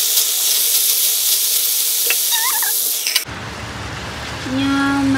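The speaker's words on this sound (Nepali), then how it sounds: "यहाँ मासुको लागि ग्रेभी तयारी हुँदैछ।" Meat gravy fries in a pan with a loud, close, continuous sizzle for about three seconds, then the scene cuts to a quieter background with faint tones.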